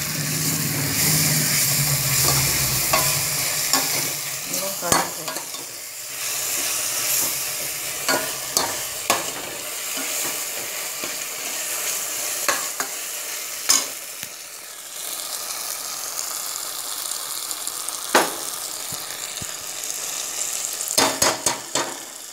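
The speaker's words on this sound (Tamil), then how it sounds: "இப்போ வெங்காயமும் தக்காளியும் நல்லா வதங்கிடுச்சு" Onions, tomatoes and drumstick pieces sautéing in a pot for sambar rice, a continuous sizzle with repeated scraping and clacking stirring strokes spread across the whole stretch.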